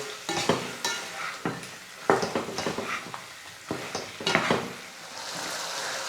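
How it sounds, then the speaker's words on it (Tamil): Chicken pieces cooking in oil over a medium flame are stirred repeatedly, giving bursts of scraping and clattering against the pan over a steady frying sizzle, close and fairly loud. "கலந்து விட்டு மீடியம் ஃப்ளேமில் ஒரு 4 நிமிஷம் இந்த சிக்கனை நல்லா குக் பண்ணிக்கலாம்"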